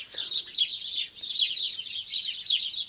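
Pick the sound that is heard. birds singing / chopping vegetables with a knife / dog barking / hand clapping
birds singing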